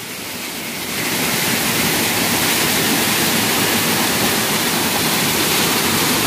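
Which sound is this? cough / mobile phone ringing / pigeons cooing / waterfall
waterfall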